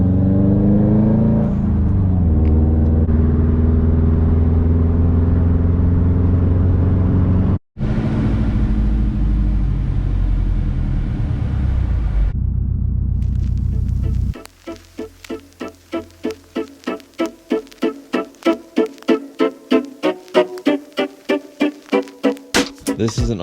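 A Subaru with an overheating fault idles and then pulls away down the street, its engine rising in a steady drone, followed by a fast rhythmic pulsing as it accelerates off, loud and close throughout.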